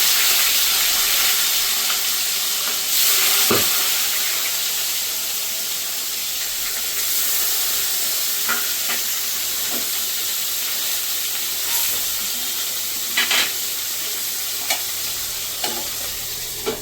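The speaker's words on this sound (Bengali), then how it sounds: "এবার আমি মাছটাকে ভেজে নেব।" Katla fish rubbed with salt and turmeric fries in hot oil, making a steady close sizzle with scattered spatter pops and occasional scrapes of stirring.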